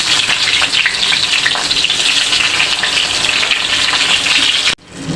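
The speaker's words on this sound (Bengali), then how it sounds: "ভালো করে মেখে সব কিছু পটলগুলি ভেজে নেব" Slices of pointed gourd (potol), rubbed with salt and turmeric, fry loudly in hot oil in a pan. A dense, close sizzle runs continuously, then cuts off abruptly near the end.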